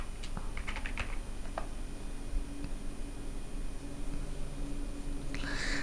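A few quick clusters of clicky computer keyboard keystrokes sound up close near the start, then only a steady hiss of background noise remains.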